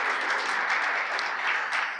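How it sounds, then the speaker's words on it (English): A room of attendees at a grandfathering summit in a church hall gives a round of applause and hand clapping for a speaker, a continuous, even patter of many hands that holds steady throughout. "Let's give Frank a good hand clap if we would."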